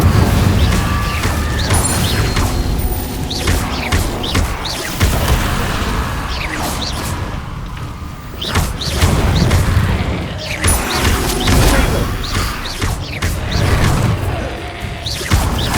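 Spellcasting in the Hogwarts Legacy video game, including the Incendio fire spell, produces loud whooshes, booms and crashing impacts layered over a dense rumbling game soundtrack, with no talking.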